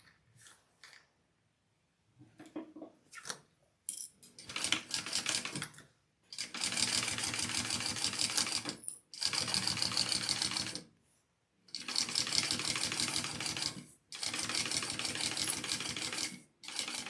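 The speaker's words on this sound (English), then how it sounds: "we will sew along this bottom piece that we just put on" Sewing machine stitching fabric along the bottom panel of a handmade bag, running in long steady bursts of several seconds each, separated by short pauses and a few brief clicks at the start, close and clear with no talking.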